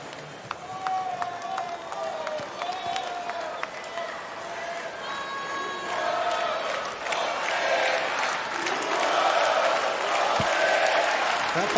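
Tennis crowd at the US Open applauding and cheering, a swelling wash of clapping and shouts that grows louder and fuller toward the end.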